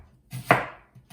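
A freshly sharpened knife slices once through an onion on a board, giving a single crisp close cut with a short crunchy tail and a faint tap after it.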